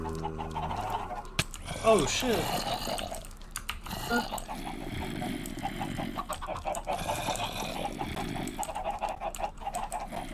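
Chickens clucking in a video game, several birds sounding off in bursts over game noise and background sounds, with a voice cutting in briefly.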